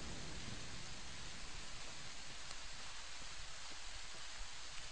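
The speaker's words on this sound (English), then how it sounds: "now this time it decides it wants to rain." Rain falling in the video game Fallout New Vegas, a dense steady hiss of broadband patter that holds evenly throughout, with no voices over it.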